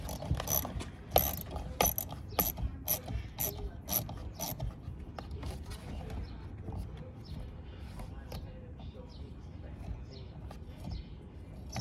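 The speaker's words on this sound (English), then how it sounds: "To remove the motor, it's going to be a 10mm socket." Ratchet wrench with a 10mm socket turning the fan motor bolts on a 2006 Porsche Cayman S radiator shroud, a quick run of sharp clicking bursts early on, then softer intermittent ratcheting under low workshop rumble and brief talk.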